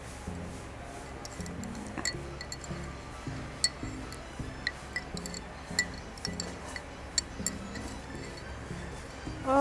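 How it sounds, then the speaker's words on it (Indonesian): A spoon clinks and ticks against a glass while stirring an iced mint lychee drink in a cafe, with light irregular taps and a liquid swirl over quiet room noise. "Kita aduk pakai ini"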